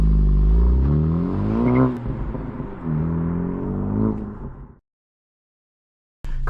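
A Honda Civic Type R FL5 pulls away, its engine revving up through rising sweeps with a gear change between them, loud and close before cutting off abruptly. A short burst of noise follows.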